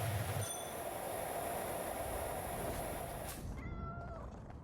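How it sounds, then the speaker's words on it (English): Cats meow in the PowerWash Simulator 2 video game: a few short, bright meows stand out near the start over a loud, steady wash of spray-like noise, and a couple of thin squealing tones come in toward the end. "They're meowing at me."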